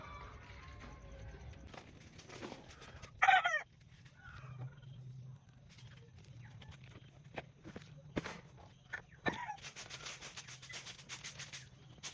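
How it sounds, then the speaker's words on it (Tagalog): Chickens and chicks outdoors, heard as soft scattered clucks and cheeps, one louder squawk, and light rustling footsteps on the ground, fairly faint overall with quiet background noise. "Nilabas ko na yung mga aking mga sisiw dito."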